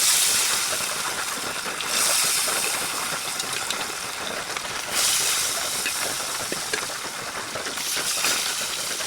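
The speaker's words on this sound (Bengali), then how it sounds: "কড়াইটা গরম হয়ে গেছে, মাছটা ছেড়ে দেবো।" Fish rubbed with salt and turmeric hisses and sizzles steadily in hot oil in a heated wok, a dense, continuous frying crackle that swells slightly every few seconds, with no talking.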